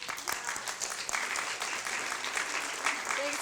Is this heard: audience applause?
yes